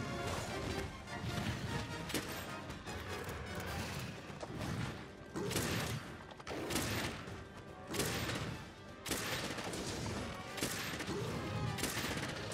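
Heavy bowgun firing Normal Ammo 3 in Monster Hunter World, a dense run of loud, rapid shots and impacts packed across the whole stretch, with brief pauses between bursts.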